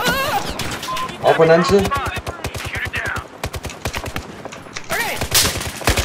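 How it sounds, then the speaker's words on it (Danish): Rapid bursts of automatic gunfire rattle through a Battlefield 4 firefight, dense and loud, with a voice talking over the shooting. "Vi bliver skudt på."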